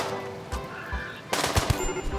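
Pistol gunfire in the colony game Rimworld: a couple of short sharp shots near the end, over a busy game soundscape with faint earlier pops.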